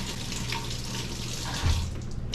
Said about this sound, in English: Give it a rinse, grab a knife.